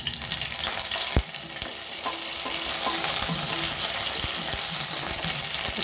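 Curry leaves fry in a little oil in a pan, giving a steady close sizzle with occasional sharp clicks and scrapes of stirring.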